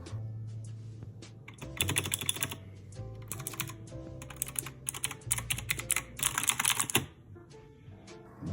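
Steady typing on a soft, non-mechanical computer keyboard, with quick bursts of key presses and brief pauses, close and clear, no voices.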